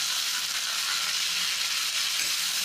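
Chopped radish and radish leaves frying in a pan for mooli sabzi, giving a loud, steady, dense sizzle close up and unbroken for the whole clip.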